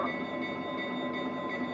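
A Lionel Burlington Zephyr model train runs along its track with a steady, continuous rolling rumble and hum, close and even throughout, with no voices.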